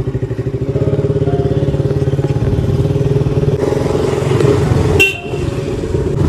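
A motorcycle engine chugs steadily up close in a rhythmic pulse, with a brief high burst near the end.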